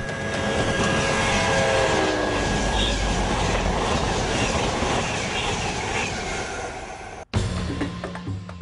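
A train rolls past on the railroad at close range, loud and steady with clattering wheels and a brief wheel squeal, then cuts off sharply near the end before a rumble resumes.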